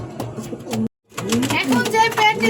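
King pigeons, a breeding pair, give soft low cooing calls in repeated bursts, close by, with a brief silent break partway and a noisy background of other birds and voices.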